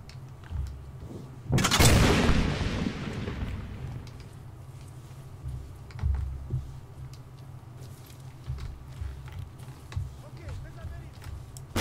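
A frag grenade bursts in an ARMA 3 firefight with a sudden loud blast that rolls off over a couple of seconds, followed by scattered distant thumps and shots while voices talk over it.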